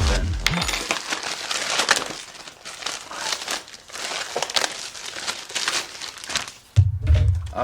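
Packaging around a Vx2 digital electric skateboard remote being torn open: continuous close crinkling, ripping and rustling of plastic and paper that lasts several seconds, with a brief low thump near the end.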